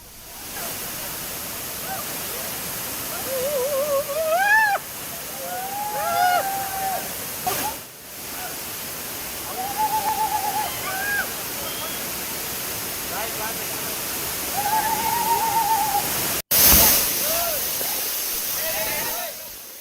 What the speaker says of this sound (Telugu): జలపాతం పరవళ్లు తొక్కుతూ ఉధృతంగా ప్రవహిస్తోంది